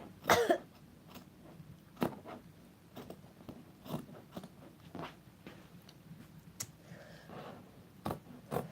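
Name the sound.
coughing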